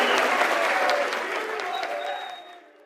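A crowd at an esports tournament final claps steadily, then the applause gradually dies away.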